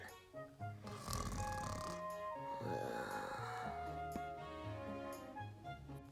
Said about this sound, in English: Who even snores like this?